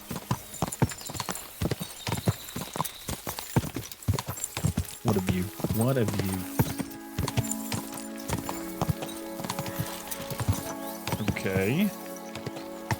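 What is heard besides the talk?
horse hooves clip-clopping, from video game Kingdom Come: Deliverance II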